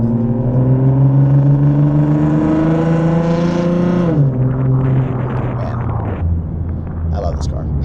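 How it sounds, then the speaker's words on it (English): A loud car engine revs hard and steadily for about four seconds, its pitch climbing, then drops off into a rougher, fluctuating rumble with some background noise, all close and prominent. "There's just something about a loud car that really can just put a smile on your face"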